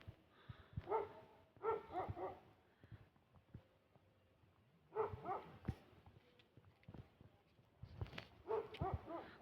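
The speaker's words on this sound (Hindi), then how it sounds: "कुत्ते भौंक रहे हैं" Dogs bark in short bursts in a village in the evening, somewhat distant and moderately faint, with quiet gaps between the clusters of barks.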